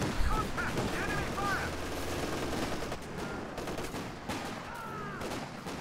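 Scattered infantry small-arms fire and machine-gun bursts from British Tommies and a German MG34 in a Company of Heroes 2 battle, a steady crackling fusillade heard at moderate distance under a busy battlefield mix.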